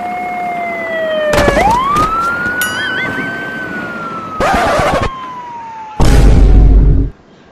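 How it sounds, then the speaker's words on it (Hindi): An ambulance siren from the video game GTA wails in long rising and falling sweeps, loud and close, broken by several bursts of loud crashing impacts. "अरे जीटीए की एम्बुलेंस है ये।"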